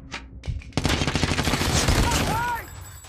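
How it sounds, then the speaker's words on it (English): Sustained bursts of automatic gunfire from a rooftop shooter in Call of Duty Mobile, loud and close, rattling on for a few seconds after two short early shots, with faint voices underneath. "So there was a guy shooting me from roof"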